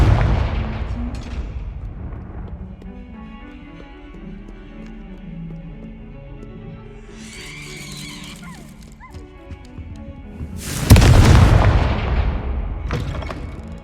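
Explosive spell blasts in the Hogwarts Legacy video game, a loud burst near the end after softer game sounds and rumbles, with a few sharp impacts early on.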